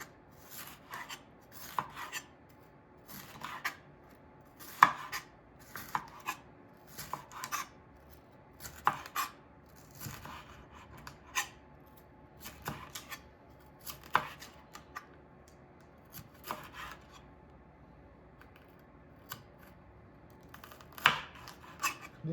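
A sharp knife cuts the veins out of jalapeños on a board, a slow, irregular series of quiet slicing taps and scrapes spread across the stretch, close by, with near silence between cuts.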